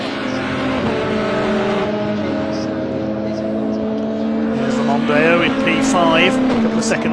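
Pre-2003 touring race cars lap the Silverstone International circuit, their engines droning and rising in pitch as they pass, under continuous commentary.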